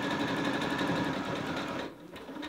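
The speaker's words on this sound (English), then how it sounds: "I'm just gonna start stitching the exact same way I did before." A sewing machine stitching a rope bowl runs in a steady, close, continuous whir, then briefly drops off before starting up again, with no talking.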